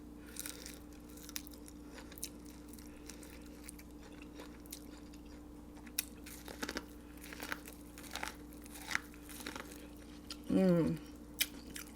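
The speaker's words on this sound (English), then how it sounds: "there will be smacking or like slurping sounds" Quiet, close-up wet smacking, slurping and crinkly chewing while eating a seafood boil of king crab and shrimp, in scattered irregular bursts, with a brief voice near the end.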